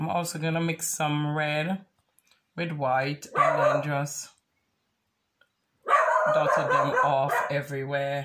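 A dog barks in a home several times in quick bursts, loud and close, while someone talks about painting flowers between and over the barks.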